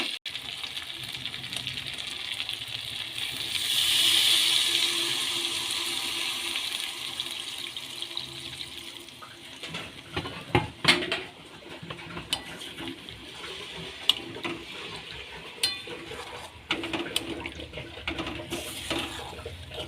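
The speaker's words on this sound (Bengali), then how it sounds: "কষা হয়ে গেছে এবার জল দিয়ে দেবো জল দিয়ে দেবেন" Water pours into a pot of goat meat curry being cooked down, a steady rushing splash lasting several seconds, then tapering into intermittent clinks and small knocks as the pot is handled.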